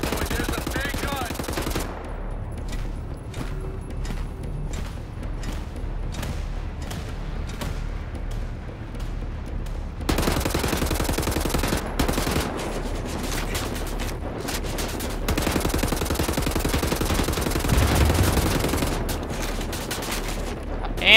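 A big gun fires at a fortified Nazi checkpoint in Wolfenstein: The New Order, sending out rapid, loud bursts of machine-gun fire with booming impacts that grow heavier and more continuous in the second half.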